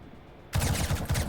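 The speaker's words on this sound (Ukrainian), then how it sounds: "Хто це обстрілює нас?" Rapid automatic gunfire bursts out in the Roblox War Tycoon video game, starting abruptly after a quiet moment and rattling loudly and close in quick repeated shots.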